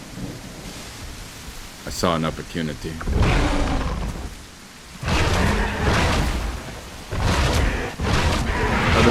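Steady thunderstorm rain in The Isle, a broad hiss running through the whole stretch with louder swells, while someone talks over it almost throughout.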